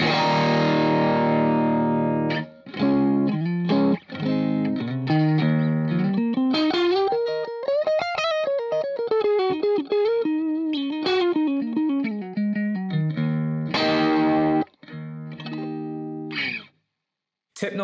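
Electric guitar, hard-strummed chords with mild overdrive leading into a flowing lick and back to ringing chords, loud and close with no talking.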